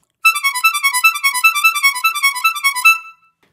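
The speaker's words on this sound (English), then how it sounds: "This effect can allow you to play fast notes in the high register of the harmonica." Fast high-register harmonica notes played with mouth breathing alone, a rapid, even stream of bright reedy pulses lasting about three seconds before ending abruptly.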